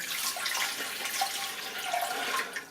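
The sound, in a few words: water filling the bowl of an ultrasonic cleaner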